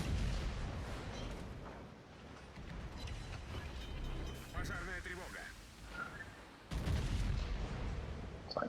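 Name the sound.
Sovetsky Soyuz battleship guns firing broadside, naval video game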